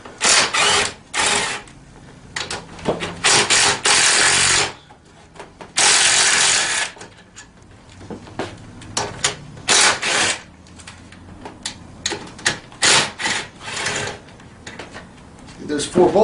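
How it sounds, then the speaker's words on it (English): Four bolts come out of the rear rack of a 110 mini ATV, heard as bursts of loud ratcheting and tool clatter separated by quieter handling sounds and pauses, all close to the microphone. "So we'll remove these 4 bolts."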